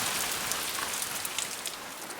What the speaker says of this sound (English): The lean-to was noisy with rain on its roof.